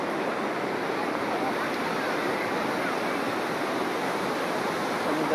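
Sea waves wash steadily onto Rushikonda Beach in Visakhapatnam, a loud, even, broadband roar of surf that runs unbroken throughout with no distinct breaks.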